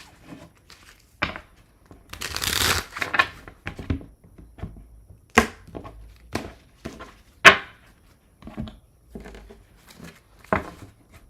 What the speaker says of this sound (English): I'm going to shuffle and we will move on to Cancer.